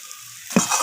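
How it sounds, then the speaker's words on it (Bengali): Soybean and cauliflower curry with coriander leaves being stirred in a pan, a faint sizzle at first, then a loud close scrape and a burst of frying hiss as the spoon moves through. "তো ধনিয়া পাতাটা দিয়ে আমি আবারও নাড়াচাড়া করে নিচ্ছি।"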